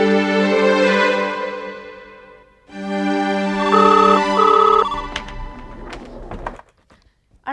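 A mobile phone rings for an incoming call with a sustained electronic melodic ringtone, loud and close, pausing briefly and resuming before it cuts off amid a few knocks.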